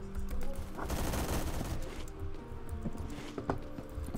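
Rapid bursts of automatic gunfire in a first-person shooter video game, loud and dense at first, then tapering into scattered single shots and clicks.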